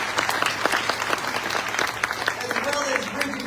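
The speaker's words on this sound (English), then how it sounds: "Please give them a big round of applause." An audience at a county small business address applauds, a dense sustained clapping from a sizable crowd, fairly close and loud throughout.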